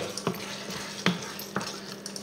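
A spoon stirs a chicken and mushroom blanquette in a pot, giving a few soft scrapes and knocks against the pot over a faint, steady simmer.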